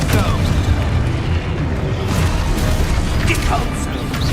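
A dense, roaring blast of the Confringo fire spell in Hogwarts Legacy rumbles continuously and loudly through the whole stretch, with game noise and faint voice layered in.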